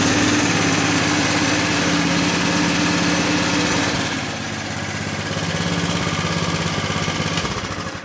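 A go-kart engine fitted with a centrifugal clutch revs hard at full throttle, a loud, steady high-pitched buzz that dips briefly midway and then climbs again before easing off at the end.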